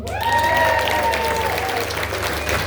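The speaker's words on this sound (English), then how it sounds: "A special round of applause for our slideshow developer and music producer, Brendan's niece, our daughter, Georgia Kane" An audience at a celebration of life applauds steadily for a couple of seconds, a dense, even wash of clapping with a faint voice over it.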